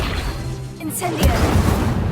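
A Hogwarts Legacy Incendio fire spell is cast, with a whooshing flare and a burst of flame that lands on a booming impact partway through, close and loud over the game's ongoing combat sounds.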